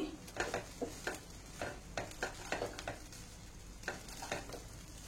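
Cooked pudina mint rice being mixed in a pan, with a series of distinct scraping and stirring strokes from a utensil against the pan, spaced irregularly over a soft background sizzle.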